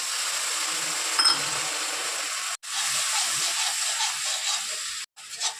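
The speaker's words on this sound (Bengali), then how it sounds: "মশলাটা কষাচ্ছি, তেল ছেড়ে দিবে" Spice paste of turmeric, salt and red chilli powder sautéing in oil in a pan for a fish fat curry, giving a steady broad sizzling hiss that cuts out briefly twice, with faint clinks.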